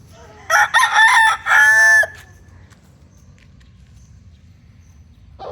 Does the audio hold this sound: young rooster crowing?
yes